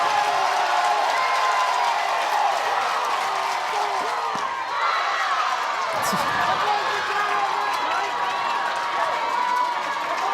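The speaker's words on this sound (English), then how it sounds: "You're feeling the crowd" A crowd stands and cheers at the NCAA softball super regional Game 3 between UCLA and South Carolina, making a loud continuous roar of voices and clapping that runs throughout under an announcer.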